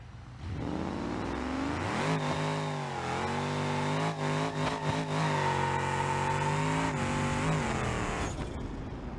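A car engine in the BeamNG.drive driving game revs and accelerates through gear changes, rising and falling in pitch with sharp shifts, loud and close over about nine seconds with no talk.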